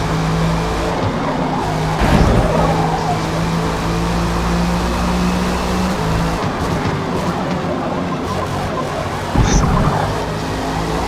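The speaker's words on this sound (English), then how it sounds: "so they had just a naturally aspirated W16. That actually sounds awesome." A naturally aspirated W16 race car engine sounds in the distance as a sustained, droning roar with swelling passes, steady and fairly loud across the whole stretch.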